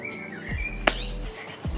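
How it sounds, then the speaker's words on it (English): Birds sing in a city garden, a few thin whistled chirps at moderate distance amid quiet outdoor background, with one sharp brief tick near the middle. "And you can hear the birds singing."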